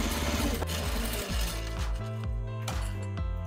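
Close up, a sewing machine runs fast and rhythmic, top stitching along a seam of a small tote bag, with its motor hum shifting pitch as it speeds and slows.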